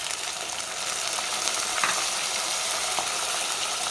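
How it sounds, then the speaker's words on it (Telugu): Tomatoes dropped into frying mung dal for a lemon pappu charu, a bright continuous sizzle with scraping stirs and a few sharp crackles, close and alone. "వెంటనే ఈ టమాటా పండ్లు కూడా వేసుకుందాం దీంట్లో."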